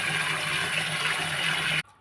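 Water pouring steadily into a bucket for soaking clay mud pots, a continuous loud gushing fill that stops abruptly near the end.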